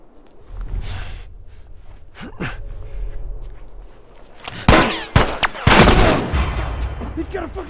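Enemies fire guns during a Lakeside Resort fight in The Last of Us. Quiet breaths and gasps come first, then a cluster of sharp, loud shots near the end.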